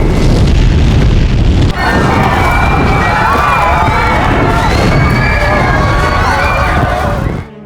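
Fire blast explosion in a Korean disaster film set in a burning skyscraper: a loud, sustained roaring blast with dense rumble, layered with screams and shouting crowd voices, ending abruptly.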